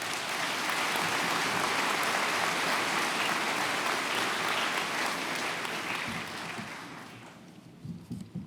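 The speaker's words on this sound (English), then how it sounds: "Let's give another round of applause on behalf of the class of 2019." A large commencement audience gives a long, dense round of applause for the class of 2019 at a graduation ceremony, holding steady before thinning and fading toward the end.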